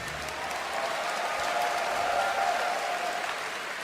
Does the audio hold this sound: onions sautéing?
no